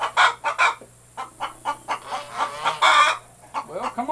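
Chickens cluck in bursts inside a rabbit building, with repeated close, loud squawks and clucks that come in short runs and gaps across the whole stretch.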